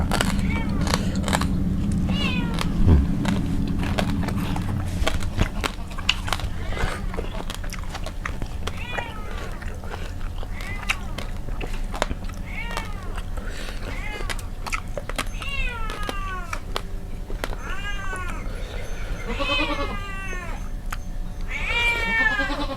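A cat meows again and again, the cries growing more frequent and insistent toward the end. They sound close, over outdoor background noise while people talk and grill Mekong river fish.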